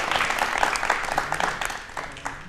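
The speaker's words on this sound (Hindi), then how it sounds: "तालियां एक बार जोरदार मैम के लिए प्लीज" An audience at a televised talk show with a guest speaker gives a burst of applause, a dense, steady clatter of many hands that slowly fades over a couple of seconds.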